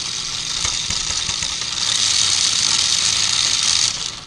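The motor of a 1994 Lionel RS3 model locomotive runs continuously at high speed, a steady close whirring and rattling drone that swells louder midway and cuts off abruptly near the end.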